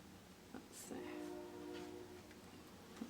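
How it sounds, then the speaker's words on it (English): A faint train rumbles in the distance, with a brief horn-like tone drifting in under quiet, close surroundings. "sorry for the train in the background."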